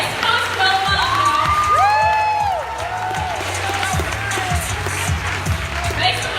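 An indoor crowd at a community report-release event in a Lutheran church cheers, whoops and shouts for a performer, loud and sustained, with a voice speaking over the noise.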